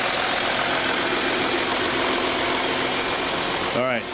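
A 2012 VW Touareg TDI diesel engine idles steadily up close, a continuous even drone that drops away at the very end as a brief voice cuts in.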